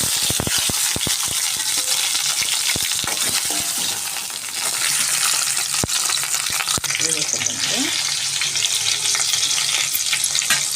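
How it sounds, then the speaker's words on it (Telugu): Tomatoes and onions fry for egg kurma in a pan, a dense, close, steady sizzle with a quick run of sharp crackles and pops early on and occasional spoon clicks, with a faint voice underneath. "ముందుగా దానికోసము టమాటాలు, తర్వాత ఆనియన్స్ వేసేద్దామండి"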